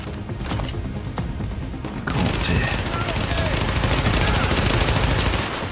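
Sustained gunfire from a firefight in the video game The Division, loud and continuous, growing denser after the first two seconds, with a voice speaking faintly underneath.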